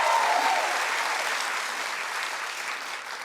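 A television talk show studio audience claps and cheers in a dense, loud burst that holds steady for about three seconds, then eases slightly as it tails off.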